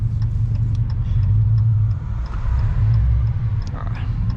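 Deep, steady exhaust rumble of a Dodge Challenger 6.4L Scat Pack through Spintech 9000 Pro Street mufflers, a throaty low drone, fairly close, holding a constant idle-like level with slight wavering.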